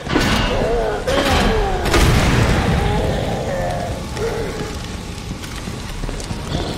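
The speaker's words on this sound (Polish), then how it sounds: "A, troszeczkę granatnika zużyję." Grenade launcher shots in the horror video game Resident Evil 2 land as heavy booming thuds a second or two apart over a dense, loud game soundscape.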